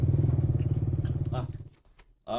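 A motorcycle engine idles with a rapid, throbbing low rumble that fades after a couple of seconds, with voices talking over it and close by.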